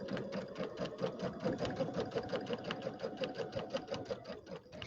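A sewing machine stitches a quilt with a fast, even mechanical chatter that runs without a break. It sounds close and fairly quiet.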